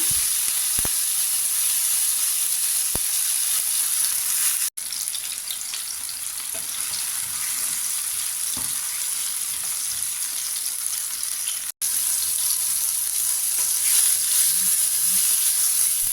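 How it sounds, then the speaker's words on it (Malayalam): Chopped tomato sautés in a pan for chutney, giving a steady, close hiss and sizzle that runs throughout, with faint stirring knocks now and then and nobody speaking. "ഇനി നമുക്ക് ഒരു തക്കാളി കട്ട് ചെയ്തതും കൂടി ചേർത്ത് കൊടുക്കാം അത് നല്ല രീതിയിലൊന്ന് വയറ്റിയെടുക്കണം"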